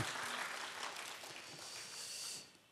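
Applause from a church congregation at a Friday prayer meeting, a steady wash of clapping that holds for a couple of seconds at moderate level and then fades out.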